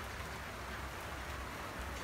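Steady rain falls around a metro in Slovenia, a dense, even hiss of drops with no breaks, moderately quiet and with no voices.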